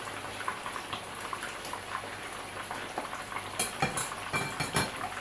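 Salted cod (makayabu) fries in a pan with a soft background crackle, joined near the end by a few sharp clinks of a utensil against the pan.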